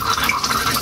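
Water runs steadily from an electric instant water geyser, a close, continuous splashing flow with no voices over it.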